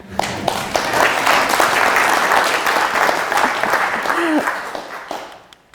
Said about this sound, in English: Could you give me a big applause for that idea?